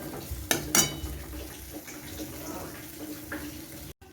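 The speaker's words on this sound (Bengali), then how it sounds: "টমেটো, পেঁয়াজ আর পোস্ত দিয়ে আমি একটু সামান্য জল দিয়েছি" Water is poured into a pan of tomato, onion and poppy seed paste, giving a brief splash and soft hiss followed by faint sizzling and gentle kitchen noise.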